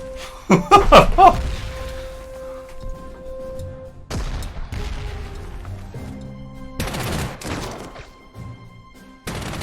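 Artillery and gunfire from the strategy game Panzer Corps 2, a cluster of loud bursting booms up front followed by scattered blasts and rumbling impacts, with brief talk in between.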